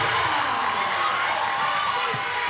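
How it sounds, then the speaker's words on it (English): A crowd at a women's college basketball game cheers in a steady, loud roar that fills the gym, with an announcer talking over it. "This crowd is getting loud."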